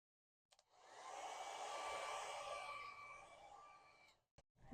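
A handheld hair dryer blows a soft, steady whoosh over freshly painted grunge paper for about three seconds, close but quiet, fading out before a couple of faint clicks.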